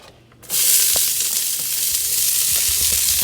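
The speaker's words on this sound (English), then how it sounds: "I'm about to saute my vegetables. Okay, so now I'm going to throw my vegetables on in." Vegetables for Cajun fettuccine hit a hot pan with a sudden loud sizzle that holds as a steady, close hiss, with faint utensil knocks underneath.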